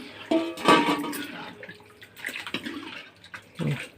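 Water poured into a pan of tomato besan kadhi during cooking: several short, close splashing gushes separated by brief pauses.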